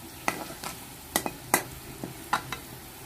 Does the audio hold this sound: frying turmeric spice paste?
yes